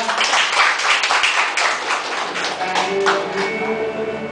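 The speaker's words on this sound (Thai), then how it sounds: "ปรบมือต้อนรับคุณสุวรรณจุลวรรณครับ" An audience at a gathering claps to welcome a guest, a full, loud round of many hands that stays dense throughout and eases slightly toward the end, with no talking over it.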